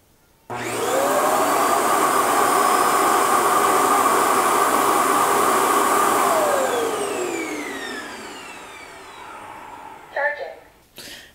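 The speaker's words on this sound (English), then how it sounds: "This is how it docks. Start dust collection." An Ultenic T10 Elite robot vacuum's dock emptying dust: a loud, steady whooshing suction roar starts abruptly, holds for several seconds, winds down with a falling whine, then a few clunks follow.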